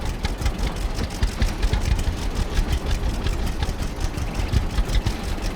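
A red-painted tractor resembling a John Deere idles in Farmer's Dynasty, its engine chugging in a steady, rapid low rhythm close by with no talking.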